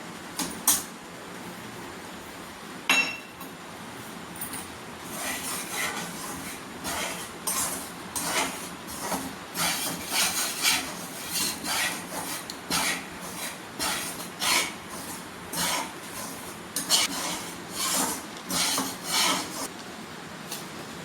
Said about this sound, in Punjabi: ਹੁਣ ਆਪਾਂ ਇਸ ਨੂੰ ਭੁੰਨਦੇ ਆ